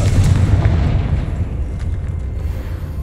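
A Confringo blasting curse explodes with a loud, continuous booming rumble that fills the whole stretch, heavy and close, with no voices over it.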